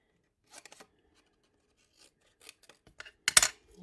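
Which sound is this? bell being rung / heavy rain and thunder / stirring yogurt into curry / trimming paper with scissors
trimming paper with scissors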